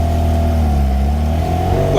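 A Lancia 037 rally car engine runs loud and close after a carburettor jet change, holding a steady throaty drone with a brief rise at the end.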